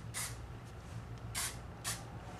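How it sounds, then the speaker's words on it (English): Hairspray from an aerosol can hisses in three short, light bursts onto pin-curled hair, close by and with no talking. "I'm just going to give it a light spray."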